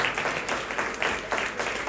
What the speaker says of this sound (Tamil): கைத்தட்டி வாழ்த்துக்கள்.